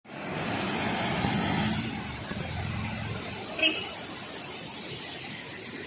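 Steady road traffic rumble from many vehicles on a hill-station road in Coonoor near Sims Park, a broad continuous wash of engine and tyre noise with a brief sharper sound in the middle, heard under some nearby voices.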